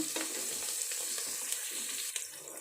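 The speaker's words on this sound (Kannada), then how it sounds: "ಹೆಚ್ಕೊಂಡಿರುವಂತಹ ಪುದೀನ ಮೆಂತೆ ಹಾಗೆ ಸ್ವಲ್ಪ ಕೊತ್ತಂಬರಿ ಸೊಪ್ಪು ಇದು ಕೂಡ ಎಣ್ಣೆಯಲ್ಲಿ ಚೆನ್ನಾಗಿ ಫ್ರೈ ಮಾಡ್ಕೋಬೇಕು" Chopped mint, fenugreek and coriander leaves fry in oil with onions for a soybean veg biryani, a dense sizzle broken by soft scraping stir strokes, close and continuous with no talking.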